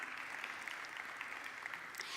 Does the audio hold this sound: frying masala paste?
no